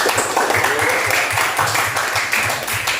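Students in a classroom applaud after group presentations, a loud, continuous patter of clapping with a steady beat running throughout.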